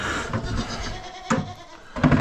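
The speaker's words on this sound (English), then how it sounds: "They're fired up, the cows, the goats, the pigs." Several goats bleat in a barn alongside other livestock, short loud calls coming close together and overlapping near the end, with no speech.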